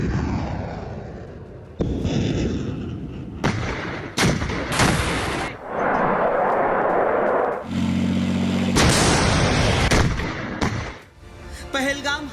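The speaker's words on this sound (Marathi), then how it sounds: "एलओसीवर पाकड्यांचा गोळीबार।" Gunfire along the Line of Control between India and Pakistan: loud, repeated bursts of shots and heavy blasts come in quick succession, with short gaps and a steady low drone partway through.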